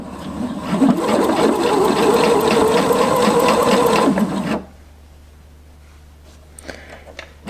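A sewing machine stitches neckband binding onto a dress, a loud steady mechanical whirr running close for about four and a half seconds before stopping abruptly, followed by quiet with a few faint clicks.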